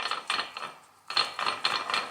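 A brand-new VEVOR 20-ton air-over-hydraulic jack has its screw turned up by hand, giving a series of close, dry ratcheting mechanical clicks in bursts with a short pause in between.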